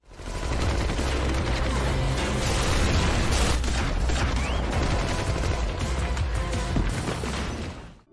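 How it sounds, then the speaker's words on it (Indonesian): Gunfire during a gangster fight scene in an action film: sustained loud volleys of shots and bursts run dense and continuous throughout, layered with booms and mechanical clatter. "Frank dengan membawa senjata lalu menembaki pasukan Assad sehingga banyak yang tewas"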